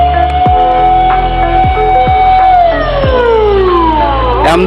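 An ambulance siren wails loudly and close in city traffic, its tone sweeping and then falling in pitch as it passes, with rumbling engines and horn bursts around it.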